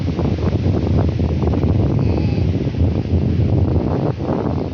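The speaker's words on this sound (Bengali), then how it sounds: "প্রচণ্ড বাতাস হইতেছে এদিক থেকে পশ্চিম দিক থেকে প্রচুর বাতাস হইতেছে" Strong wind before rain, blowing in from the west, buffets the microphone with a loud, continuous low rumble and some rustling, with no talking.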